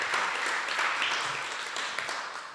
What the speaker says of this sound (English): can we just give Simone a last round of applause